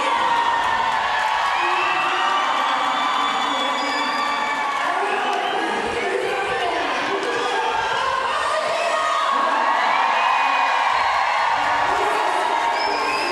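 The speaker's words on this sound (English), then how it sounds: "This crowd is going wild." Large roller derby crowd cheering at a World Cup bout between Argentina and Ireland, a steady roar of shouts and whoops from many voices filling an indoor arena, loud and sustained throughout.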